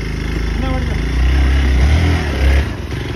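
A motorbike on a village road during the Dashain festival, its engine growling and swelling louder as it draws near, mixed with people talking over it.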